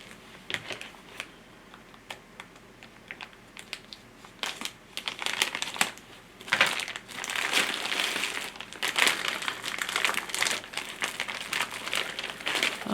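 Plastic wrapping around a pillow crinkles and crackles in bursts as it is cut open, close and fairly loud, growing busier toward the end with sharp rustling peaks.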